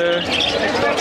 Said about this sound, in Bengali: আমার কাছে আজকে হিউজ পরিমাণে বার্জিকা আছে